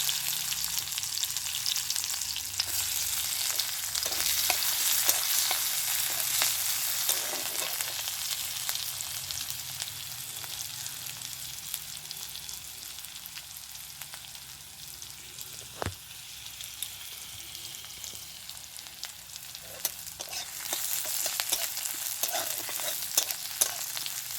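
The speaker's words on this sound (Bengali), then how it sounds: "একটু জিরা, পেঁয়াজ ভাজি" Cumin seeds and onion frying in oil in a home kitchen, a steady close sizzle with occasional stirring scrapes and clicks, no voices.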